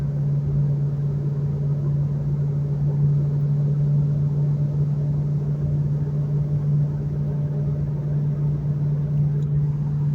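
A 2004 Mustang Mach 1 with a centrifugal ProCharger supercharger cruising on the road at about 65 mph and around 2,100 rpm gives a loud, steady, unbroken low engine drone inside the car.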